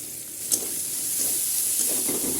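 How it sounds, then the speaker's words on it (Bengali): Sliced onions frying in hot oil with cumin seeds and bay leaf, a continuous close hissing sizzle with a brief clatter near the start, no voices present. "পেঁয়াজ আমি লাল লাল করে ভেজে নেব"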